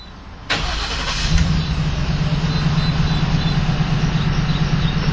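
A 2011 Ford E150 cargo van engine cranks briefly, then catches and settles into a loud, steady idle close to the microphone, with no talking.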